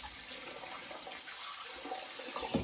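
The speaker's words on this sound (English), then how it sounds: "I'm going to rinse off the handle a bit, see if it's not going to help." Tap water runs steadily from a faucet as a straight razor handle is rinsed, a continuous close splashing hiss with a small clink near the end and no talking.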